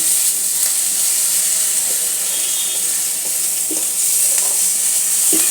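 Spices with ginger paste frying in oil in a pan for Bengali fish-head moong dal, a steady close sizzle with faint stirring throughout, no talk.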